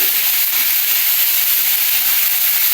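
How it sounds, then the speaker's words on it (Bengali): Grated ginger frying in oil, a loud, steady, close hiss that holds unbroken throughout. "আদাটাকে তেলের মধ্যে কষিয়ে নিচ্ছি"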